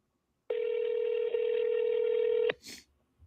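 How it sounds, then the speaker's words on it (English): A phone dialing a call, heard as a single loud steady dial tone lasting about two seconds, followed by a short burst of noise, with no talk. "I'm gonna try to call him right now"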